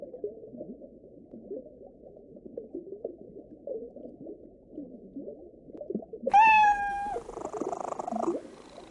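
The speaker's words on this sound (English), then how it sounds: "A cat." A short cartoonish cat meow from an I SPY Fantasy computer game rises suddenly and clearly after several seconds of low, murmuring background music, followed by a brief trailing texture.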